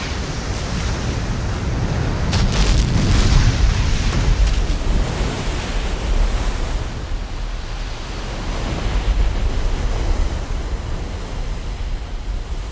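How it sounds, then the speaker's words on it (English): Ocean waves from distant storms crash against the shore in a broad, roaring surge, swelling and easing over several seconds, loud and continuous with windy noise and no voices. "Ocean waves driven outward from fierce storm centers often travel for a week or more until they explode against the land."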